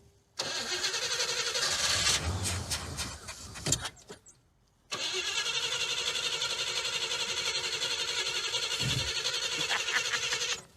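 An old Cadillac Eldorado engine is cranked with its choke held open, churning for a few seconds before catching and settling into a loud, steady, close idle.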